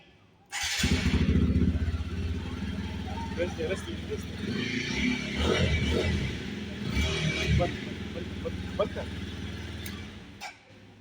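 A TVS Apache RTR 160 4V motorcycle engine starts and idles steadily indoors in a showroom, a loud continuous low rumble lasting several seconds, with a few faint background voices.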